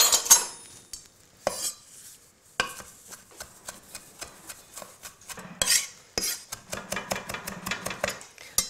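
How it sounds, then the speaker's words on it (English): Fresh oregano leaves are stripped and chopped with a knife on a board, a run of sharp close taps and clicks, sparse at first, then a quick rhythmic chopping burst toward the end. "I'll just take some fresh oregano and just strip off the leaves."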